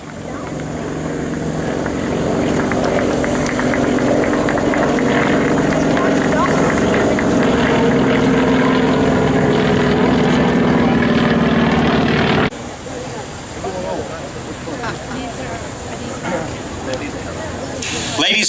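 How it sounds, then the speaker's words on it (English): FM2 Wildcat propeller fighters roar past loudly in a sustained, droning flyover, the engine noise dominating before dropping suddenly to a lighter background of crowd and wind. "Ladies and gentlemen, here come the Wildcats."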